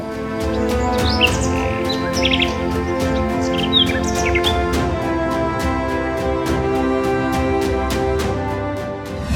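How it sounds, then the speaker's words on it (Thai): Many crested birds chirp and call over a dense, continuous background of droning sound, their calls scattered and fairly close as they perch in trees. "มีนกจำพวกมีหงอนหลายตัวเลยครับ บินมาส่งเสียงร้องแล้วมาเกาะอยู่บริเวณต้นไม้"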